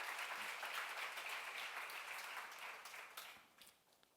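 Congregational applause during a church Bible lecture on Isaiah, a dense continuous clapping wash that fades toward the end, with no voices over it.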